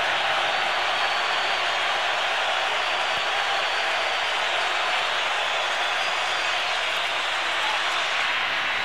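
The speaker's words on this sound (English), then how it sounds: "Big play here, 3rd and short, crowd on its feet" A stadium crowd roars and cheers steadily at an NFL game, Green Bay at Minnesota in 2003, on a third-and-short play, forming a loud, dense, sustained wash of noise throughout.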